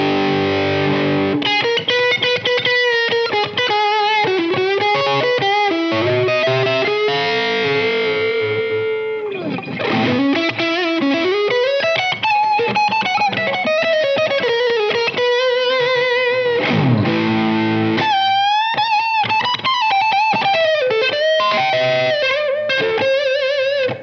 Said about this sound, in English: The bridge pickup with some dirt, it's got lots of sweet clarity to it.